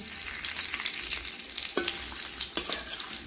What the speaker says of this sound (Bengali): তেল গরম হয়ে গেছে দিয়ে দিচ্ছি সাদা জিরে তেজপাতা কুচি